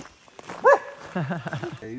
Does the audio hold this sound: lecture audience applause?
no